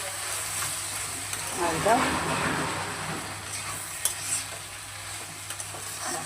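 Vegetables for a vegetarian meal fry in a pan over lowered gas and are stirred, giving a continuous soft sizzle with scraping and a few knocks of the utensil, while a voice speaks briefly.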